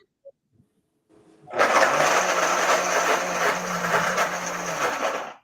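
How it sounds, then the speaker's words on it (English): Kitchen blender whirring through a thick cashew-based mixture, starting abruptly after a few faint clicks and then running as a loud, steady roaring grind for several seconds before cutting off. "So here we go with the blender again."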